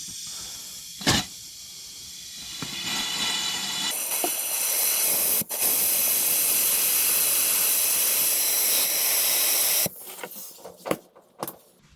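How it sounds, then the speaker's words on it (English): Compressed air blasts out debris inside a truck cab: a loud, steady, close hiss that runs about six seconds and is framed by short bursts and knocks before and after. "now we're just going to put a little air in it to try to blow out any excess"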